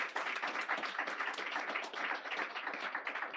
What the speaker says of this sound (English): Let's have a round of applause in the room here for our wonderful panel.